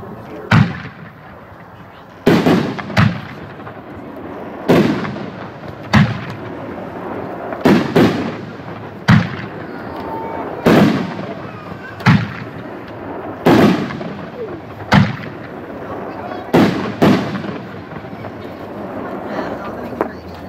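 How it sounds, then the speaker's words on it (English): A red, white and blue 12-shot kit of 60-gram, 5-inch artillery shell fireworks going off: about a dozen sharp booms a second or two apart, each with a short rumbling tail, over faint background voices. "another 60-gram artillery kit, red, white, and blue 5-inch. This is a 12-shot kit"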